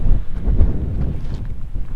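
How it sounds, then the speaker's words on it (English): Strong wind buffeting the microphone at a viewpoint near San Pedro de Atacama, Chile, a steady low roaring rumble with gusty surges throughout. "the wind is insane outside"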